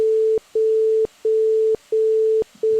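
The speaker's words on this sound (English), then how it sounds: "440 Hz corresponds to what is called standard A" A 440 Hz sine tone, the standard A note, sounds as a loud, pure steady beep repeated in even pulses about half a second long, separated by brief clicks and short gaps, like a lost-connection phone tone.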